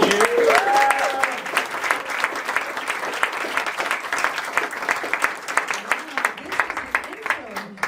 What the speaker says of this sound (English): And please give me a big round of applause for Michelle Maree.